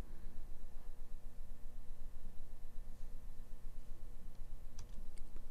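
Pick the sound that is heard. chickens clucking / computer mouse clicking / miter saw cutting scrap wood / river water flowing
computer mouse clicking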